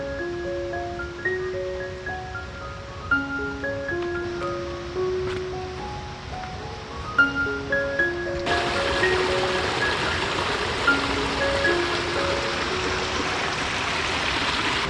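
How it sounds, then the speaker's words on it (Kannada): A forest stream near Abbigundi waterfalls outside Shivamogga rushes in a steady broadband wash that swells in halfway through, while a melodic music line plays over the water. "ದೂರದಲ್ಲಿ ಅದೊಂದು ಸ್ವಲ್ಪ ನೀರು ಹರಿಯೋದು ಸೌಂಡ್ ಕೇಳಿಸ್ತಾ ಇದೆ"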